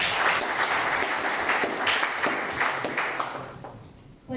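Members of a parliament applaud the President, loud dense clapping from many hands that carries steadily and tapers slightly toward the end.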